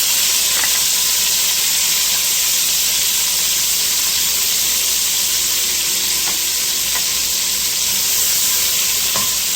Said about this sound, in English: Going to throw in the onions.